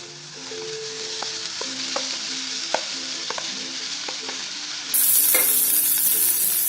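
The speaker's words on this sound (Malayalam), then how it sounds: "ഇനി നമുക്ക് ഈ പൊട്ടറ്റോ ഇതിലോട്ട് ഇട്ട് കൊടുക്കാം." Potatoes frying in a pan with curry leaves, a steady sizzle with scattered light clicks of a spoon, then a sudden louder, brighter burst of sizzling near the end.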